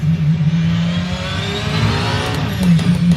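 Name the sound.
Porsche 919 Evo LMP1 race car engine in Assetto Corsa video game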